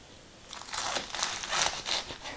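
A knife chops through romaine lettuce on a cutting board in a quick run of crisp, crunchy cuts, close and fairly quiet, with no talking.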